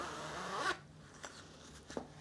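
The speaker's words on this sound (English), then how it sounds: "We have a zipper." A zipper on a padded foam microphone pouch is opened in one quick, close rasp, followed by a few faint handling clicks and rustles.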